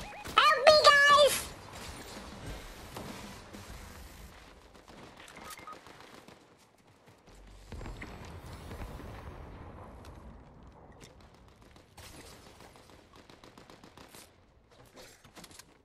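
Gunfire in the Fortnite video game, rapid bursts of shots and impacts scattered throughout, loudest at the start, with a voice talking over the action.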